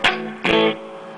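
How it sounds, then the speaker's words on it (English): Two distorted, reverb-soaked guitar stabs through a Marshall JCM800 4210 amplifier, each loud attack followed by a ringing, decaying spring-reverb tail; the second chord sustains briefly before fading. "so that's the reverb"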